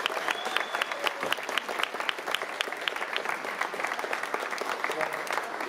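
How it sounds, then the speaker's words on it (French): A festival audience at a horror film festival jury presentation applauds steadily, a dense patter of many hands in a hall. A voice speaks briefly over the clapping. "On peut encore l'applaudir, Katrina."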